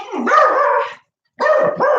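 A dog barks loudly in two bursts, a sustained run of barking, a brief pause of silence, then more barking close by.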